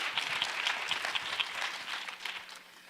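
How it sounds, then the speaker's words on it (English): Fairly quiet audience clapping for a panel at a COVID town hall, a scattered patter of hands that gradually thins and fades out. "let's clap for this distinguished panel we have tonight"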